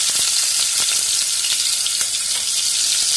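Mustard seeds and cumin sizzle in hot oil, a loud, constant close-up crackle with occasional small pops and spits throughout.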